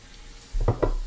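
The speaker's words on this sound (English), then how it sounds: "It's already fizzing." A MrBeast Lab toy tablet fizzes in water, giving two short bubbling bursts close by after a quiet start.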